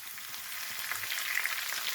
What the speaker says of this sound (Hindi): फ्राई कर लेंगे अदरक लहसुन को इसके अंदर